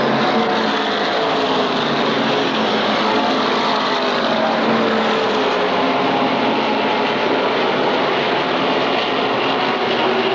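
An SK Modified race car at Waterford Speedbowl during a 1992 150-lap race holds the throttle open, giving a loud, steady engine drone that carries without interruption and with no talk over it.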